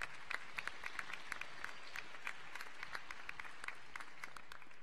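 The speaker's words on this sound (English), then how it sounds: "please give her a round of applause" At a senior awards night, an audience applauds a scholarship recipient with a steady spatter of many hands clapping, fairly faint and distant in a large room, holding evenly throughout.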